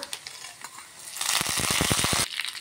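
Cumin and mustard seeds hit hot oil and burst into a loud, crackling sizzle, with rapid popping spatters building over a second or so, then easing back to a softer hiss, heard close with no talking.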